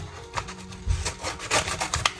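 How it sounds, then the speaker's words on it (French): Scissors cut open a cardboard package of books at close range, making short scraping, rasping snips and crinkles in quick, uneven bursts. "Prendre mes ciseaux."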